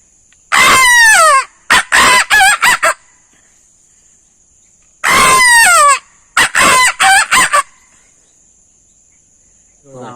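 A person imitates a rooster crowing, giving two loud, close crowing calls, each a long rising-and-falling cry followed by a few short clucking bursts, separated by silence under a steady high insect-like whine.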